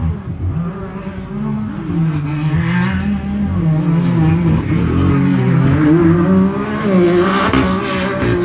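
A UTV in the Unlimited class at the High Desert 100 in Powell, Wyoming roars across the start-finish line, its engine loud and close with shifting revs throughout.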